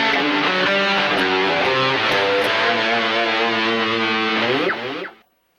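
Heavily distorted electric guitar plays the final section of an intro, a loud continuous run of driven riffing that rings briefly and cuts off near the end.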